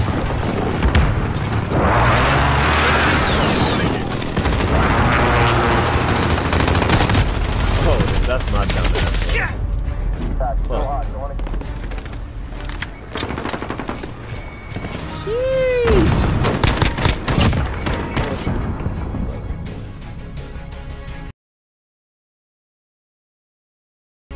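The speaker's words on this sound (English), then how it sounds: "Friendly precision airstrike on the way." A precision airstrike lands in Modern Warfare team deathmatch, with a long run of loud, dense blasts and rattling gunfire, plus a few tonal game effects. It cuts to silence at the end.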